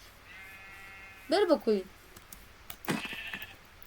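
A sheep in Minecraft bleats twice in quick succession, clear and fairly close, followed by a brief spoken phrase and a faint sheep call under steady background hum.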